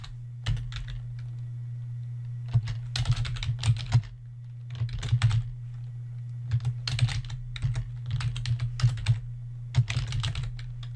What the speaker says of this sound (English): type in all of that great information